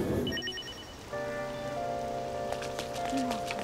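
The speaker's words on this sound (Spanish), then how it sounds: "Día de lluvia." Rain patters steadily in Persona 5 Royal, a continuous soft hiss with faint tonal game sounds layered over it.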